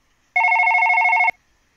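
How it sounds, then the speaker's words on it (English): A telephone bell rings once in a single steady electronic trill lasting about a second, close and clear against near silence before and after. "Hold on, I'm getting a phone call."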